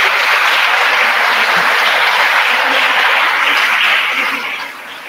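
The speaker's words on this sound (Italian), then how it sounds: "l'applauso dell'aula" Applause from the audience in a lecture hall, a loud, dense wash of many hands clapping that holds steady for several seconds, then fades down near the end.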